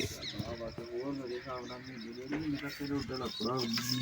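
Pet pigeons kept on a Punjab village rooftop coo in soft, repeated rolling calls, faint beneath steady conversation from nearby men.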